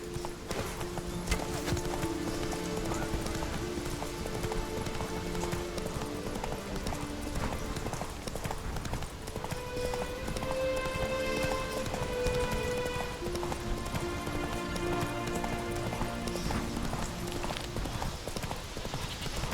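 Video game horse gallops with a steady, fast clip-clop of hooves and an occasional whinny, loud and continuous over a dense game soundtrack of music and effects.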